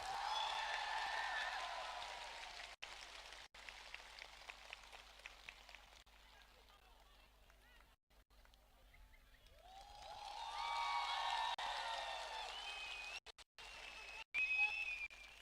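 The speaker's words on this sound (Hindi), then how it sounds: "प्लीज बाएं हाथ से ताली देके please give him the respect" A large crowd at a Tipra Motha Party mass rally in Ambassa bursts into distant, rain-like clapping in two swells, with speech heard between and over the applause.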